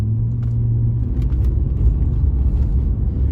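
A V6 engine in a 2008/2009 VW Phaeton, a heavy luxury sedan, rumbles low and steady as the gas is pressed, with a droning tone that shifts partway through, heard from inside the car without talk.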